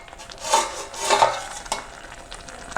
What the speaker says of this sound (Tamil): இதை நல்லா கிளறி